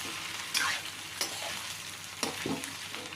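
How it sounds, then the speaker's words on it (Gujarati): Okra with garlic frying in oil in a pan on a medium gas flame, a steady soft sizzle with a few brief stirring scrapes, close and alone with no talk. "થોડીક વાર તેલમાં તળવા દેવાનું એટલે ચીકાશ બધું બળી જાય"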